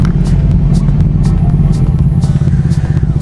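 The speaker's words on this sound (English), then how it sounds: "Oh, the rumble of the Ducati." A Ducati 899 Panigale's engine rumbles up close, a loud, steady, deep throb with a clattering edge and slight revving under wind rush.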